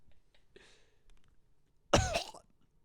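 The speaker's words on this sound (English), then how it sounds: "You pulled the microphone in to cough." Single sharp cough pulled close to a podcast microphone, loud and abrupt after a few faint rustles and breaths, then quiet.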